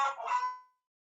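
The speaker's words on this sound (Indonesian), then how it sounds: "Suara ayamnya masih pagi ini," A single rooster crows in the morning, one short harmonic call lasting under a second and fading to silence, heard alone at moderate distance.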